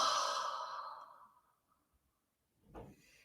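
A slow, deep exhale during a guided breathing exercise fades gradually into quiet, followed by a soft breathy sound near the end.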